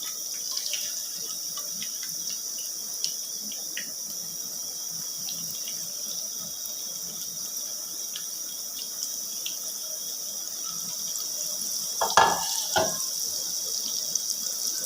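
Potatoes cut for crispy french fries drop into hot cooking oil, giving a steady bright sizzling hiss throughout, with a sharper, louder surge of bubbling near the end; no one talks.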